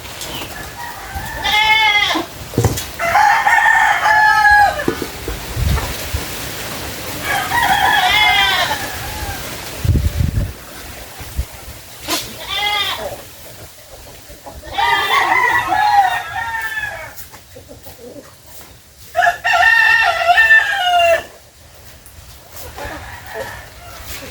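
Chickens cluck and a rooster crows in repeated bursts, fairly close, with quieter gaps and some low rumbling between calls.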